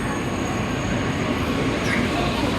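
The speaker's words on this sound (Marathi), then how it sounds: "ही ट्रेन आपली आता घेऊन जाणार आपल्याला पॅरिस एअरपोर्टला" A double-decker train heading to the Paris airport rumbles steadily from inside the carriage, a dense, continuous low roar of rolling wheels with a faint high whine, muffled voices mixed in.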